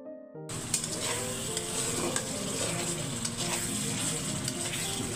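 Masala spice paste for a hilsa and eggplant curry sizzles and is stirred in a pan, a close, continuous fry with scraping spoon strokes and small crackles.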